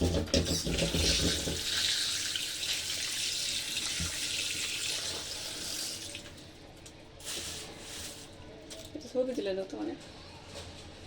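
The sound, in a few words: pouring water to soak food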